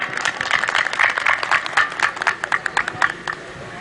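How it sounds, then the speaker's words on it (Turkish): Applause at a village keşkek festival in Gülpınar for the village headman: scattered, uneven outdoor clapping from a modest crowd, rising and falling in bursts before thinning out. "buradaki dağları herkesten çok daha iyi bilen sevgili muhtarımı bir alkışlar mısınız efendim?"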